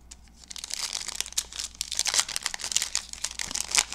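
A football trading card blaster pack being unwrapped: continuous crinkling and tearing of foil wrapper at close range, with busy irregular rustles throughout.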